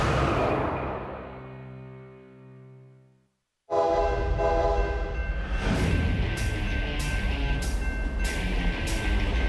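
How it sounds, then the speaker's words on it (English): A Ringling Brothers and Barnum and Bailey circus train sounds a long horn, then rumbles loudly past up close with clattering wheels and rhythmic clicks over rail joints. "The Ringling Brothers and Barnum and Bailey Circus train is the longest private train in the world."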